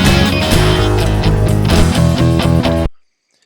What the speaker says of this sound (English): those sounds are coming in so hot that the clipper is also clipping them